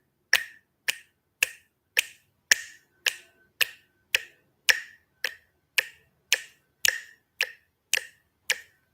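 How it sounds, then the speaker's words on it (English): Sharp finger snaps land on a steady beat, about fifteen evenly spaced, crisp and close, in time with a metronome click that nearly vanishes beneath them. "clapping or snapping along to the beat"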